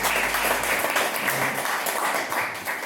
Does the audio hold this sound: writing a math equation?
no